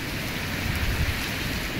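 Steady rain pouring down, a dense even hiss of drops on surfaces at moderate volume, with no voices.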